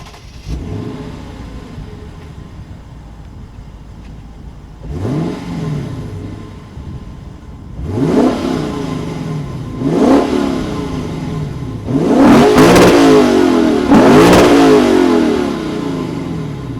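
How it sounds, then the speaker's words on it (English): A 2016 Lexus GS F engine starts and revs in a series of bursts, each rising roar louder than the last, with the final revs heaviest and sustained, no talking. "we might as well hear what the exhaust sounds like"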